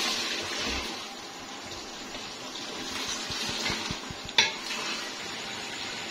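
Mutton with a couple spoonfuls of yogurt sautéing in a pot, stirred steadily with a spoon over a constant sizzle, with scraping strokes against the metal and one sharp clink near the end.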